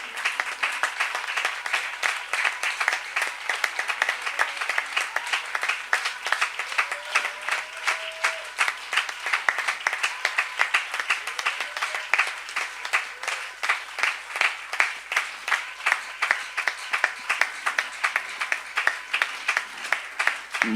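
A church congregation claps in steady rhythmic unison throughout, loud and sustained, with faint voices mixed underneath.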